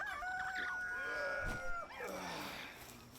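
Chickens on a farm in the video game Palworld cluck and crow, with a rooster-like call rising over a soft background hum. The bird calls come as a short run of bright bursts at moderate loudness.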